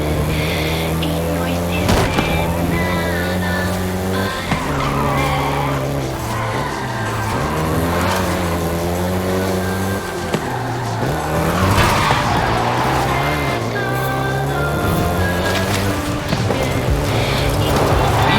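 Volkswagen Golf GTI driven in the racing game Forza Horizon 5, the engine droning and shifting pitch as it revs through gears, with tire squeal and skidding layered over a continuous loud car roar.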